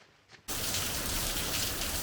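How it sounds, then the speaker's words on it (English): Steady, heavy rain falls outdoors, bursting in abruptly after a near-silent moment and then holding as a loud, dense, continuous hiss with no talk. "Let me move away from the rain. I'm not peeing. That's rain."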